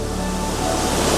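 A mountain waterfall of crystal clear water on a Himalayan trek to Madhmaheshwar roars close and steady, a dense unbroken rush of falling and flowing water with no talk over it.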